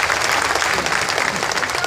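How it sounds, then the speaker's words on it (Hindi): A crowd at a packed open-air political rally under a pandal in Bhadesar claps loudly to welcome the school headmaster, a dense continuous burst of applause close by. "हमारे जो हेडमास्टर हैं उनका जोरदार ताली बजा करके आप लोग स्वागत करिए"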